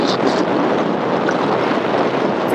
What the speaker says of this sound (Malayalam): ഇപ്പം കോൺസ്റ്റൻ്റ് ആയിട്ട് ഞാൻ പോകുന്നത് ഇതിൻ്റെ ആക്സലറേഷൻ ഇതിൻ്റെ ഫുൾ ത്രോട്ടിൽ കൊടുത്തിട്ടുള്ളത്.